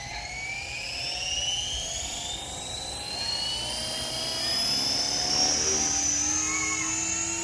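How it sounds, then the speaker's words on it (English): An Oxy 4 RC helicopter runs close by with a high, whining rotor and motor drone, its pitch climbing and shifting steadily as the tail is tuned, alone without talk. "demo video on how to tune the tail on an Oxy helicopter."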